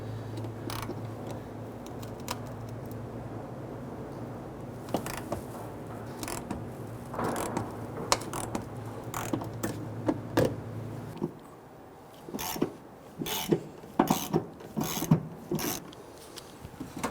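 A steady mechanical hum runs under scattered metallic clicks and ratcheting bursts, followed by quieter, sharper clicks and creaks of a ratchet removing rusted 10mm bolts and nuts on a 2008-2013 Infiniti G37.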